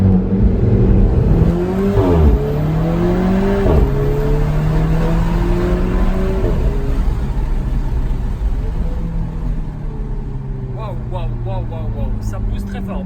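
An Alfa Romeo 4C accelerates hard on a road trip, its engine note rising through the gears with audible shifts, heard from inside the cabin with a steady road rumble underneath.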